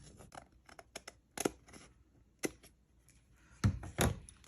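Scissors snip and trim a paper lunch bag, with a series of sharp, close cuts and crisp paper rustles spaced irregularly through the quiet.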